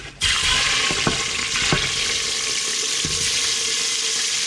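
Prawns for a pineapple prawn ball dish drop into hot oil at around 180 degrees Celsius and fry with a loud, steady bubbling sizzle that continues without pause.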